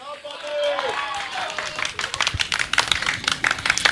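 Audience applause at a Hindi speech event, scattered claps building into a fuller round of clapping over a murmuring crowd, with a voice trailing off at the start.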